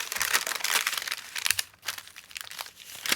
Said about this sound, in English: Now I've got some nice tracing paper, so I could add that in there like that